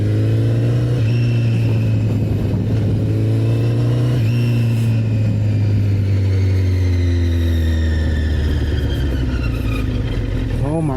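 A Honda CBR1000RR superbike engine runs steadily nearby, its loud humming drone rising and falling slightly in pitch as it idles and revs on a seaside strip.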